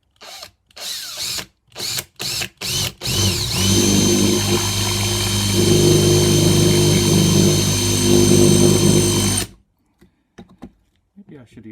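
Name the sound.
drilling a Suzuki Bandit handguard with a drill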